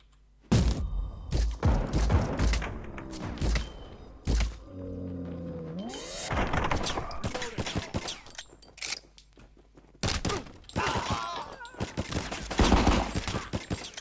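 Gunfire from a weapon in the video game Rico, with rapid loud bursts of shots, thuds and impacts that come in dense clusters, broken by short pauses.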